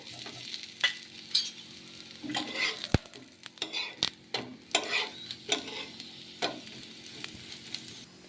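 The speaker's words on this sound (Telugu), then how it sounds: "ఇలా 2 వైపులా కూడా నూనె అనేది అప్లై చేసేసుకుందాము. ఇలా 2 కూడా నూనె అనేది అప్లై చేసేసుకొని కాల్చుకోవడమే." An egg rumali paratha roasts with oil on a pan, giving a soft steady sizzle. Close spatula scrapes and sharp utensil clinks break through it at irregular intervals.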